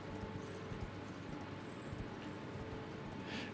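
Horse hooves clip-clop quietly and evenly in an Elden Ring game, a soft rhythmic trot over a low background hum.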